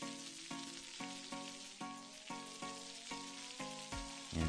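Bitter melon hitting a pan of sautéed garlic and onion gives a steady, close sizzle and frying crackle with rhythmic stirring or scraping pulses throughout.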